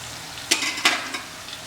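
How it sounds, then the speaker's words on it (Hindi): Mutton and minced keema frying in a pan for Moradabadi mutton biryani, with soft sizzling and a few sharp stirring scrapes close by, no talk. "आपने देखा कि हमारा जो कीमा और मटन है ये बढ़िया फ्राई हो गया है।"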